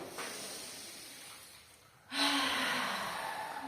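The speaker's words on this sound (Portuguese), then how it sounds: "Inspirando." One deep inhale during a guided breathing exercise, a soft breathy rush of air that swells and holds after a brief quieter pause.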